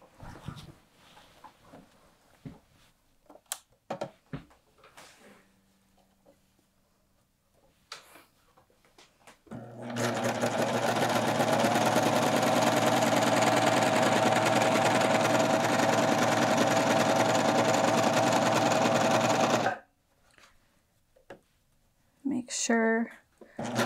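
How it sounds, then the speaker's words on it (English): A serger finishes the sleeve seam allowance of a quilted jacket, running as one loud, steady mechanical whir for about ten seconds, with quieter handling sounds before and after. "I'm just going to serge mine."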